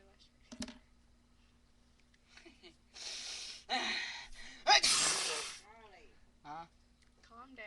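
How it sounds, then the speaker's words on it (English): A child in a noisy room lets out a sharp sneeze, a breathy burst with a snort-like rush of air near the middle, surrounded by gasps, clicks and faint voices at low volume. "I sneezed."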